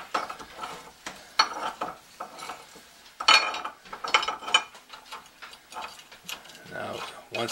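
A bolt is worked out of an antique lock: close, irregular metallic ratcheting clicks and clinks, in short bursts with quiet gaps, no talking.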